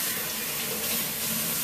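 Tap water runs in a steady, full stream into a sink while rice is washed, a continuous close hiss with no breaks and no talking.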